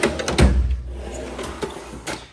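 A wooden junk drawer in a welding shop slides open with a low rumbling scrape and a few knocks and clatters of its contents, such as tape and glue, close by.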